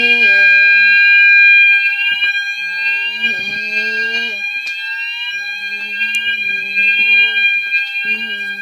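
A fire alarm sounds continuously and loudly during a manual call point test, a steady electronic tone with a rising pitch sweep, while a person talks over it.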